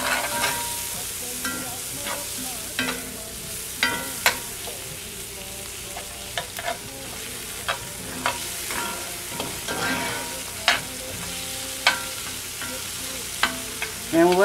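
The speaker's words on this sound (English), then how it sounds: "ginger, and the red pepper. Give this a nice stir." Ginger, garlic and red pepper fry in a pan with a continuous sizzle as a utensil stirs them, its scrapes and taps recurring irregularly, close and clear, with no voices.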